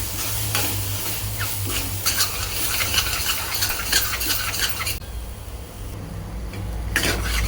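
Oyster mushroom curry fries loudly in a pan, a dense, continuous sizzle with scraping and stirring strokes throughout and no voices.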